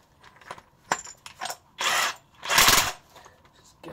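Power tool buzzing in short bursts while a nut is removed during an Audi wheel bearing removal, several brief whirs followed by two longer, louder runs, close by.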